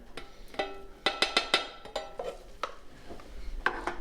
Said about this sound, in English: Now I'm going to return the processed apricot to the pan.